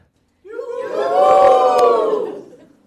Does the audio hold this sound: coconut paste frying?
no